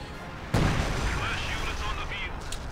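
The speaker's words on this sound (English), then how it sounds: "Look at those rockets." A rocket artillery barrage in Company of Heroes 2 on a winter map: one sharp blast opens a sustained rumbling roar of detonations, with talk over the top.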